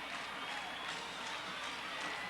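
Crowd at a night high school football game in a domed stadium, the 1983 Kingdome state championship between Kelso and Sedro-Woolley, cheering and applauding in a steady, dense roar that fills the whole clip.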